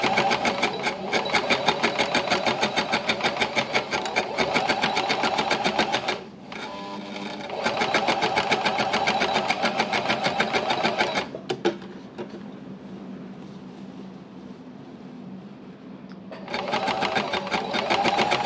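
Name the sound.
sewing machine embellishing fabric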